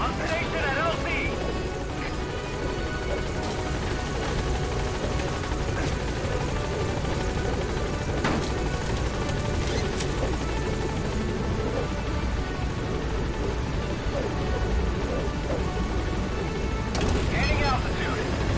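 Helicopter in Metal Gear Solid V: The Phantom Pain hovering at a landing zone, its steady rotor thrum and turbine roar loud and continuous throughout, with a voice talking over it.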